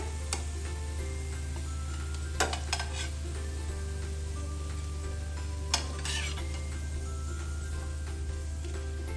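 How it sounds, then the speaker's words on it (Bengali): Water lily flower pakoras frying in oil and being stirred: a steady low sizzle and hum runs throughout, broken by a few sharp utensil clinks. "আবার একটু নাড়াচাড়া দিতে হবে"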